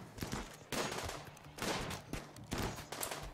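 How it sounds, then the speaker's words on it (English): Shotgun fire in the modded video game RimWorld (Alpha 14 with Combat Realism): four loud, sharp blasts about a second apart, each trailing off quickly before the next shot. "This shotgun has an awful range"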